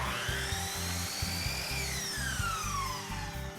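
A miter saw slices through polyurethane crown molding at a 45-degree miter, a loud, steady motor whine with a rhythmic low churn beneath it and a pitch that slides gradually downward as the blade winds through the cut.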